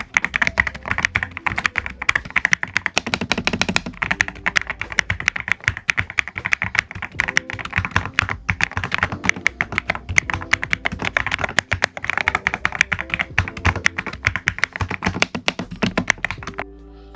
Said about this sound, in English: these are good and they sound really nice on this keyboard as well